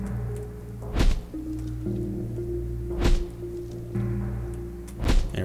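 In the RPG Architect video game, an enemy fires projectiles as three dull thumping shots evenly spaced about two seconds apart over a steady low game hum.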